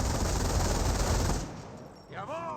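Machine gun fire from a base MG emplacement in a Company of Heroes battle, a dense continuous burst for about a second and a half, then stopping, followed by a faint whistling, warbling effect.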